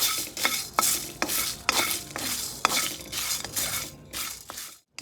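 Bay leaf, cumin and coriander dry-roasting in an open pan over low heat, a spoon scraping and stirring in repeated sweeps with small clinks against the metal, the dry rustle continuing steadily before a brief pause near the end.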